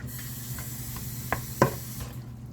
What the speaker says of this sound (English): And I'm just going to kind of mix that up a little bit